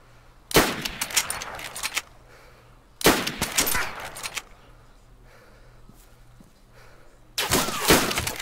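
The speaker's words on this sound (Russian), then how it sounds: "У меня идет с ним здесь стрельба." Gunfire trades back and forth in the survival shooter DayZ: three loud bursts of rapid shots, each about a second long, separated by quieter gaps.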